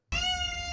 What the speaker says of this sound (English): we're going to play the meow